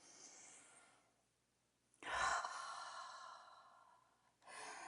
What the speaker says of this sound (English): let's actually take a breath together